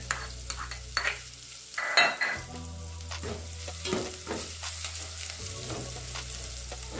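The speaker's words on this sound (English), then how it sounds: "So the first step, we are going to cook our onions" Onions and garlic sizzle and fry steadily in a pan, a continuous close crackle with occasional stirring scrapes and a low steady hum underneath, no voices.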